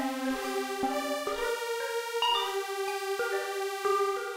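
A bell patch on the Phase Plant software synthesizer rings out in a series of bright struck tones, each note sharp at the onset with long shimmering overtones, played clearly and alone.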